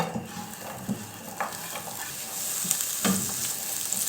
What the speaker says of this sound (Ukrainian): Тепер відправлю цибулинку смажитись.